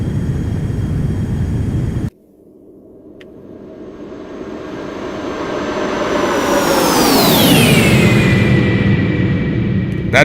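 A Beechcraft Premier 1A jet takes off and does a flyby in X-Plane 11. The engine rumble drops out briefly, then builds steadily louder as a high whine rises. Near the peak, the pitch sweeps sharply downward as the jet passes close by.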